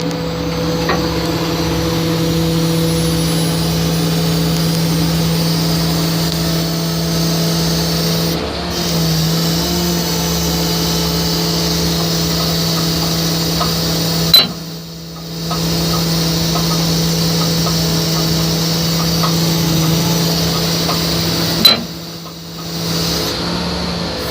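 Hydraulic system raising a heavy-haul lowboy trailer loaded for an excavator: a steady loud mechanical drone with constant engine-like hum, broken by two brief sharp clunks and drop-outs near the end.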